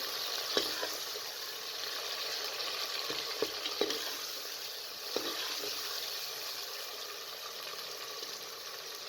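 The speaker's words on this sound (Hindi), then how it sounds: "गोश्त को आपने इतना फ्राई करना है कि इसका जो कलर है वो चेंज हो जाए।" Steady, gentle sizzling of mutton frying in a pressure cooker for aloo matar gosht, with a few soft clicks of stirring, continuous and close without any talk.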